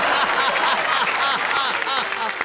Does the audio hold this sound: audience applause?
yes